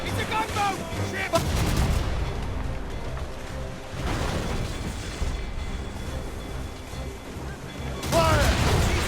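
Ship cannon fire during a naval battle in the video game Assassin's Creed Rogue, heavy booming blasts at the start, around two and four seconds and near the end, over a continuous roar of wind and sea, with shouted voices mixed in.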